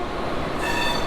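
A local train at Howrah station gives a steady, loud rumble of rail noise with faint high wheel squeal, heard alone with no talk.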